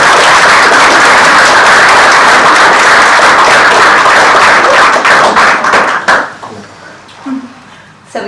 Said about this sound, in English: I think she deserves a clap.